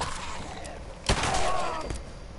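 Gunfire in the Fallout 4 video game: a single sharp, loud shot cracks out near the middle, over steady game ambience with faint background sounds.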